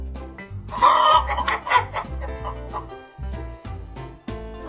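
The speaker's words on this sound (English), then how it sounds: "Hen." A hen clucks in short repeated bursts over a steady rhythmic backing track, fairly loud and close, with no voices.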